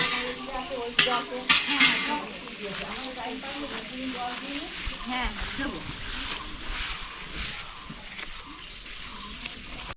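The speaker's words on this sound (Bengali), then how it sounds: "তো দেখো এদিকে হচ্ছে রান্না বান্না সকালে রান্না বান্না হচ্ছে এদিকে" Morning cooking in large pots at a Bengali wedding: clanking metal utensils and stirring over a steady sizzle, with a few sharp clinks early on and people talking nearby.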